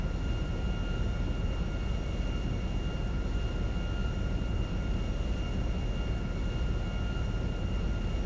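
Steady, even drone of a Premier 1 light jet flying a downwind approach leg in GTA 5, holding a constant engine hum with a faint tonal whine throughout and no talk.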